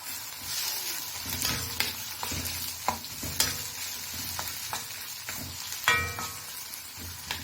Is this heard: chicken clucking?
no